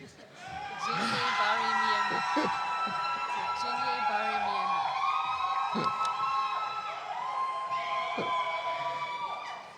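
A large audience at a university convocation for science graduates cheers, whoops and shouts loudly and continuously, with rising and falling voices and a few whistles.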